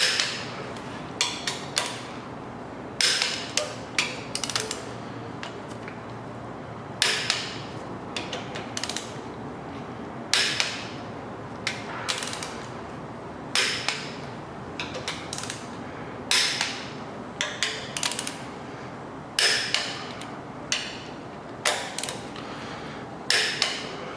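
A torque wrench tightening Ford 302 small-block cylinder head bolts ratchets in short bursts of sharp clicking, repeated about every second or two in a steady sequence, close up in a quiet shop.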